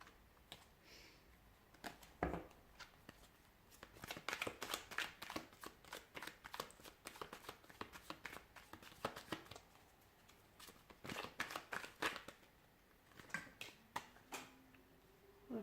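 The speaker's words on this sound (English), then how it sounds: "Give the cards a shuffle." Quiet, rapid riffling and soft clicking of tarot cards being shuffled in bursts, close by, with no one speaking.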